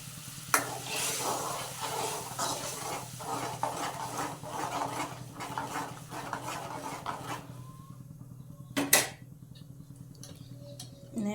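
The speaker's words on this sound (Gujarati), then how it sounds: "હવે નાખશું આપણે એક ટમેટાની ગ્રેવી." Tomato gravy is stirred into a sizzling pan for a dum aloo curry with small potatoes, producing a rhythmic run of scraping spoon strokes over a hiss that quiets down before a sharp clank of metal.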